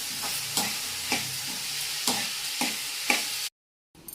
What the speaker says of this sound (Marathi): आपण परतून घेऊया